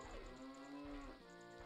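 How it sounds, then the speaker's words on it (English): Cow mooing in a Zelda randomizer video game, one drawn-out low moo with a shift in pitch partway through, faint and with no talk over it. "Oh, the cow is Navi, I think"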